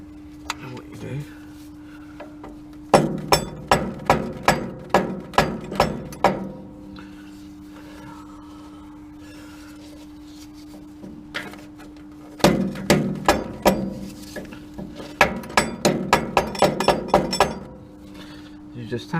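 Metal part being tapped into place with a hammer while servicing a Belle cement mixer, two quick bursts of sharp, ringing metallic taps, close and fairly loud, with a steady hum in between.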